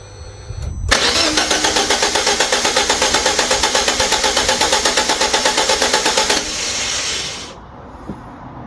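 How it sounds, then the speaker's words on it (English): A Fiat 500 engine cranks without firing, a loud fast rhythmic churn of the starter turning the motor over for about five seconds, then cutting off to a quieter background hum. "I'm turning the engine over"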